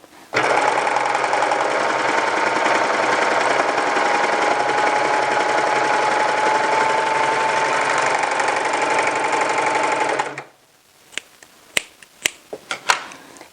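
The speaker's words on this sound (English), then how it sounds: "here is how it works for those of you who have never used a serger before" A serger overlocks and trims a sweater seam in a loud, fast, continuous mechanical whir lasting about ten seconds, then stops abruptly, followed by a few sharp clicks and taps.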